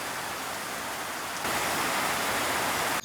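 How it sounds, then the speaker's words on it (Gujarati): Steady rain falls outdoors, a dense continuous hiss that grows slightly louder partway through, with no voices. "મિત્રો જુઓ વરસાદ ચાલુ થઈ ગયો"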